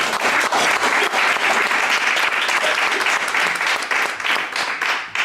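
An audience bursts into steady, loud applause for a book author at a signing, dense clapping filling the whole stretch before thinning slightly at the end.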